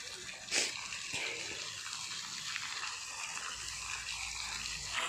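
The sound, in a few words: water falling at temple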